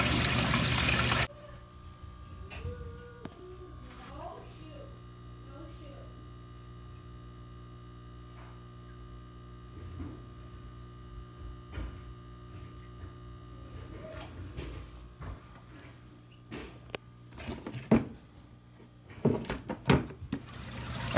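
Water in an aquarium sump flows through a tube into a second container, a faint trickle and gurgle over a steady low hum, with a few louder splashes and knocks near the end.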